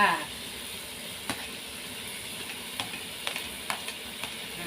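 Onion, bell pepper and fresh ginger stir-frying with pork belly in a pan, a steady sizzling hiss with a few sharp spatula scrapes and clicks scattered throughout, no voices.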